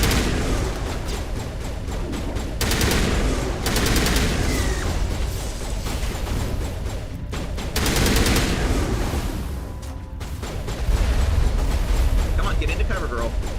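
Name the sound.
gunfire in a shooting gallery, from the video game Mass Effect 2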